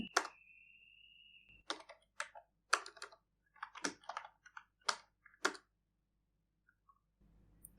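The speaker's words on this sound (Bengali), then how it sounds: "এন্টার প্রেস করছি।" Computer keyboard keys pressed one at a time while installing Arch Linux. About six or seven distinct clicks come at uneven intervals in a quiet room, with a brief tone at the start.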